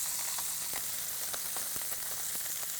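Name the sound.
pan-searing food in oil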